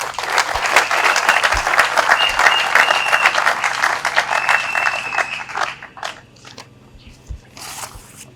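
Loud, dense applause from an audience at an academic degree ceremony, welcoming the president to the stage; steady clapping holds for about six seconds, then thins to scattered claps and fades.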